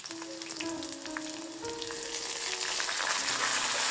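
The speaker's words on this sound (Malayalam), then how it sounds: "ഞാൻ കടുക് പൊട്ടിയതിന് ശേഷം കുറച്ച് വെളുത്തുള്ളി ഇട്ടു കുറച്ച് സവാള ഇട്ടു" Garlic and onion frying in oil after mustard seeds popped, for a lentil curry, a close crackling sizzle that grows steadily louder, with a faint tonal hum underneath.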